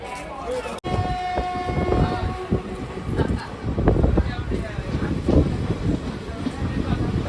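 The Puri Express passenger train rumbles steadily along the tracks near Ongole with rattling wheels and wind, a long horn sounding near the start.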